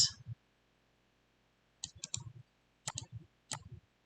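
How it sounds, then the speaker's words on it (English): Computer mouse clicks at a desk, faint and close: a single click, a pause, then several short clusters of clicks, with no voices. "I'm going to right click, duplicate."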